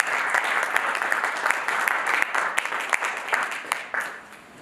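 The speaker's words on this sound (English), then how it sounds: "A round of applause for us." A crowd at an annual general meeting breaks into a dense, lively round of applause, steady and close for several seconds before thinning out and fading to quiet.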